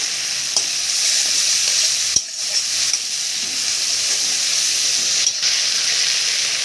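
Prawns fry with ginger garlic paste in a hot pan, giving a loud, steady, close sizzle with a couple of brief stirring knocks, and no voices over it.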